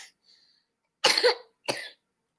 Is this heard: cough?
yes